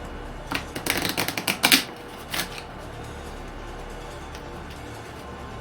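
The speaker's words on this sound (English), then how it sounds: "Shuffle all of these together." A deck of board game cards being shuffled on a table, a quick burst of crisp riffling clicks and flutters lasting about a second and a half, then a short second riffle, close and alone.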